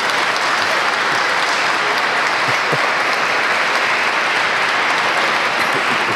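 An audience at a Latino climate action gathering breaks into loud, sustained applause, a thick, even roar of clapping lasting about six seconds with no voices on top.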